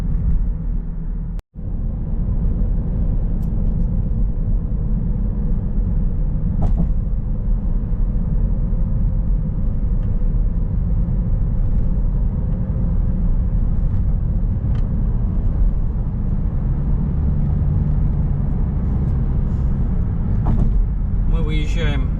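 A car cruises south on the highway from Milwaukee toward Chicago. Steady, loud interior road rumble and engine drone run the whole stretch, broken once by a brief dropout near the start.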